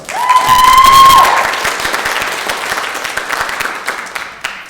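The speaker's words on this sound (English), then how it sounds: "We give a clap for each student twice." A graduation ceremony crowd applauds a student, starting after a brief high whistle-like tone and swelling into steady, fairly close clapping that gradually fades.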